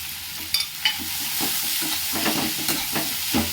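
Grated garlic, green chilies and a ginger-garlic-onion-chili paste hit hot oil for chilli paneer, bursting into a loud close sizzle with a few sharp stirring knocks at the start, then a steady fry.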